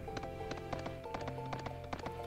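Rhythmic hoofbeats clip-clop at a steady trot over a tonal musical backdrop, with horse footsteps repeating evenly, from the video game Suikoden III.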